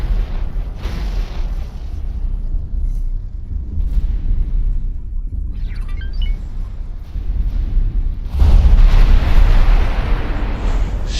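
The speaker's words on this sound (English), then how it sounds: "Explosion imminent." Explosion in the space strategy game Fleet Operations, a sustained low rumbling blast with a heavier burst near the end, loud and alone.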